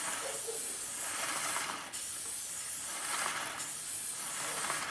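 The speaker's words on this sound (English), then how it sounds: "Notice I'm spraying down and to the side." Liquid sprayed steadily onto a chain link, aimed down and to the side so it drips along the back, making a continuous close hiss that holds for the whole stretch with only brief dips in intensity.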